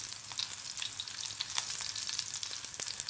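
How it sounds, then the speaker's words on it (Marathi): Garlic sautéing in oil over low heat, a soft, close crackle of small irregular pops and light spitting that keeps going without pause at a fairly quiet level. "लसूण छान परतून घेऊया. करपू देऊ नका. गॅस मंद आचेवरच ठेवून हे काम करा."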